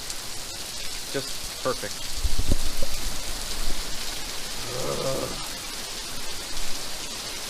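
Rain falling outdoors in Florida, a steady wash of drops on surfaces while a person speaks briefly and some clatter moves around nearby.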